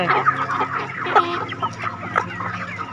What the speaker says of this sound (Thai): ไก่กำลังสาวกำลังสวยเลยค่ะ